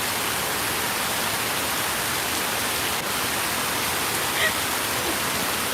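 Steady evening rain pours in a broad, even hiss, close and constant, with no pauses or voices breaking through.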